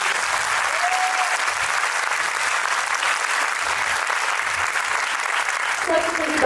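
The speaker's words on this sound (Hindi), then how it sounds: "एक बार जोरदार तालियां हो जाएं इनके लिए" An audience applauds the actors after a Hindi stage play, the clapping thick, loud and sustained from start to finish, with a brief tonal call rising above it near the start and again near the end.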